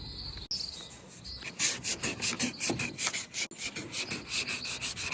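A car hood sanded by hand ahead of primer, with close, rapid rhythmic back-and-forth scraping strokes that come in steady bursts, loud and alone.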